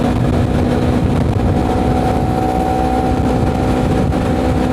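Honda CBR motorcycle engine droning steadily while riding, a constant loud hum with a wind-buffeted rumble and no breaks.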